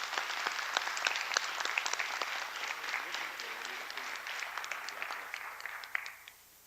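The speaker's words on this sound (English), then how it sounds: "Give a round of applause, please." Audience applause at a tribal national council ceremony, a steady crowd of clapping hands that carries on for about six seconds before fading out near the end, with faint voices underneath.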